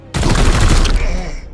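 A point-blank shot in Warhammer 40k: Chaos Gate – Daemonhunters, a sudden loud gunfire blast that booms for about a second and then fades into a ringing tail.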